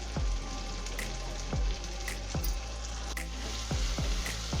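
Turmeric is stirred into a poha spice mix frying in a pan, a dense, continuous sizzle broken by several sharp scrapes and taps of a spoon on the pan at an irregular pace, with no talking.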